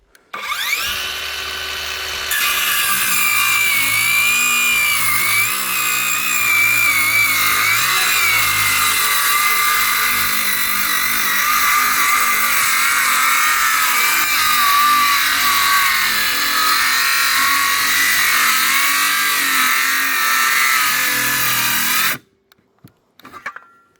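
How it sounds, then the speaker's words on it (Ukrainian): A cordless battery-powered saw with a 2-amp-hour battery cuts lengthwise along the grain of oak wood, a loud sustained whining motor drone that runs for about twenty seconds before stopping abruptly. "2-амперний акумулятор, щоб пилка різала дуба вздовж волокон"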